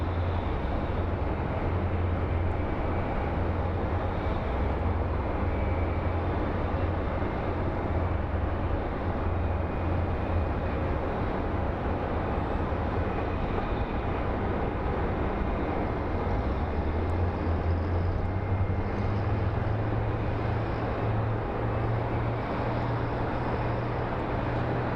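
A WestJet airliner at Phoenix Sky Harbor airport gives a continuous, loud, low jet-engine roar that holds steady with a slight rise in pitch near the end, a broad rushing wash from start to finish.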